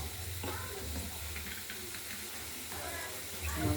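Cabbage tipped into hot oil in a pan of reddish fried potatoes, giving a steady broadband sizzle and hiss that runs throughout, with a few stirring scrapes and a louder burst near the end.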